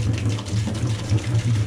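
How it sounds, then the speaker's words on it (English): Vinegar and distilled water poured over and into an engine block during rust removal, a steady close splashing and gurgling flow with no talk over it. "Just pour it all over the block."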